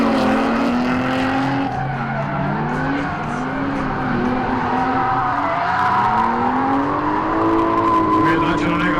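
A Ford Sierra and a BMW E36 drift in tandem at a Croatian drift event, with loud engines revving and wavering and tires squealing continuously, under a commentator's voice.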